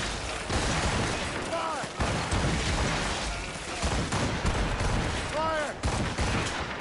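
Ship cannons in Assassin's Creed Rogue fire in a ragged, continuous broadside of booming volleys beneath a loud naval battle, with shouted commands over the din.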